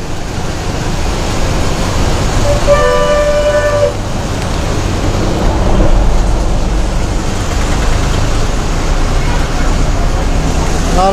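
An APSRTC bus in Tenali rides toward the market with a loud, continuous engine rumble and road noise, a short horn toot partway through, and traffic sounds around it.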